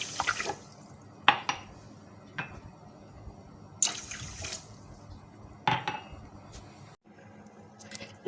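Water poured into a pan of sugar for gulab jamun syrup in a home kitchen, a few separate splashy pours and clinks, fairly close and moderately loud, with quiet gaps between.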